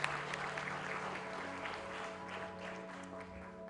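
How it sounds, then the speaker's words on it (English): Audience applause at a Standard Chartered charity event, a broad wash of clapping that holds steady across the moment, heard at a moderate distance over a faint hum. "Guys, once more, a huge round of applause."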